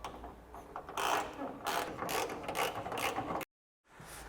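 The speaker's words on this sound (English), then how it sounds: "So we'll just undo all 4 nuts until they're finger tight" A hand ratchet undoes the nuts holding a car's trunk lid, its pawl clicking in quick, close bursts of rapid ticks with a brief pause near the end before the clicking resumes.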